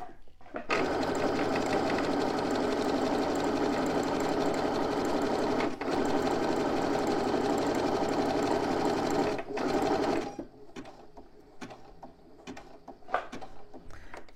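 A sewing machine stitching a bag, running in a steady loud continuous whir for about ten seconds, then stopping and leaving a few scattered clicks and handling taps up close.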